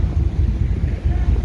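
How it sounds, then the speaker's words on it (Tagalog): A fishing boat sailing on the Pacific Ocean, its engine a steady low rumble mixed with wind buffeting the microphone, close and continuous. "Yan, naglalayag kami."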